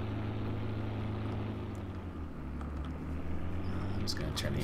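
A tractor engine in the farming game Farming Simulator 2013 idles with a steady, low droning hum that holds even throughout, with faint clicks near the end.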